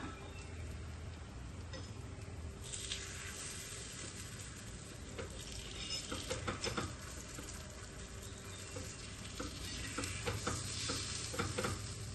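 Moong dal puffs fry in shallow oil with a steady close sizzle and crackle, punctuated by light clinks and scraping of a utensil as they are turned, no talking.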